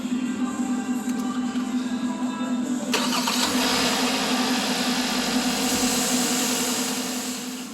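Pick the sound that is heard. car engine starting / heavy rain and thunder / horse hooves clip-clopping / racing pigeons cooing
car engine starting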